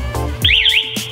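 A quick electronic chirp from a Cyclone C-11 motorcycle alarm's bike finder, a warbling high-pitched tone rising and falling briefly, loud and close.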